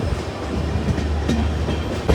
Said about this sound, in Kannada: ನಮಗೆ ಅಪೋಸಿಟಲ್ಲಿ ಸಿಂಗ್ ಆಗ್ತಾ ಇರೋದು ಶಿವಮೊಗ್ಗ ಟು ಮೈಸೂರಿಗೆ ಹೋಗೋ ಎಕ್ಸ್ಪ್ರೆಸ್ ಟ್ರೈನು